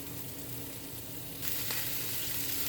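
Cabbage with smoked sausage and fresh spinach beginning to cook in a pan, a steady broadband sizzle that grows slightly louder partway through, close and continuous without voices.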